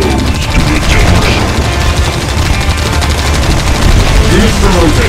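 Loud, dense gunfire from a base under attack in Red Alert 2 (Mental Omega) forms an unbroken wall of rapid shots and battle noise that never lets up.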